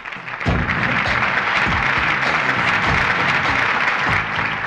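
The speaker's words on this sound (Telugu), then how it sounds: "క్లాప్స్." A film audience claps loudly and steadily after an award presentation, with dense applause that starts abruptly and carries on without letting up.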